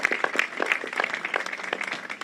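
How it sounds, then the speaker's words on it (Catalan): A small audience at a theatre talk show claps in a brief burst, the individual hand claps distinct and fairly close, overlapping in an uneven patter. "Un altre aplaudiment"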